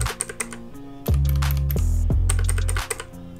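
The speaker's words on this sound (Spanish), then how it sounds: "acá tenemos mi teclado mecánico. Y bueno, como pueden ver, también es switch azul" Fast bursts of typing on a dusty mechanical keyboard with blue switches, crisp clicky keystrokes scattered at first, then dense and rapid close to the microphone, ending in a few sparse taps.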